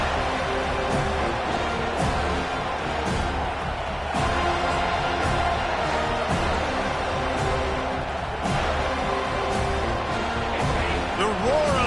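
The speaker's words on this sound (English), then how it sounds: "The roar of the crowd trying to fuel this defense to keep them pinned in their own end." Crowd at a college football game, number 15 Alabama against number 1 Florida State, roars steadily throughout, a dense loud stadium wash with people talking over it.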